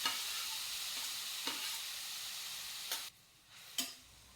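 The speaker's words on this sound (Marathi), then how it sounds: "व्यवस्थित परतून घेऊयात." Grated bottle gourd sautés in ghee in a nonstick pan, a close, steady sizzle broken by stirring scrapes, briefly dropping out before resuming.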